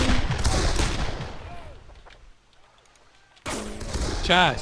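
Gunfire in the video game Darkest of Days rattles in loud, rapid bursts, drops away briefly to near quiet, then resumes abruptly with heavy shots, while someone speaks over it.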